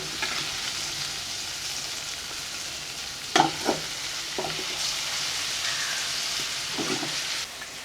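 Fish pieces frying in hot oil for fish biryani give a steady soft sizzle, with a few louder clatters of a spoon or ladle scraping the pan partway through.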